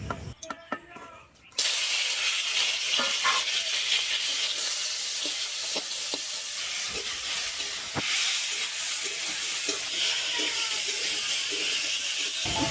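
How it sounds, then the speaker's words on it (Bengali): Kuche fish (eel) frying in hot mustard oil in a kadai gives a loud, steady broadband sizzle with occasional pops and stirring clicks. It starts suddenly after a brief quieter handling moment and carries on unbroken. "এবার কুচে মাছগুলো দিয়ে ভালো করে ভেজে নেব।"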